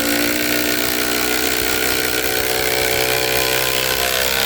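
A Ryobi impact driver runs hard as it drives a fastener, a loud, steady, buzzing whir that fills the whole stretch without pause.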